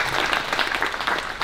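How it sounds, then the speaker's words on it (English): An audience at a Semper Fi Fund fundraiser for heroes breaks into applause, a dense, steady burst of many hands clapping close by. "yeah, we can throw around the applause."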